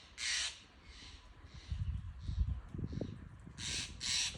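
Birds squawking on a property with bird feeders and peanuts set out: loud harsh crow-like calls in a pair at the start and again at the end, with faint calls and rustling handling noise between.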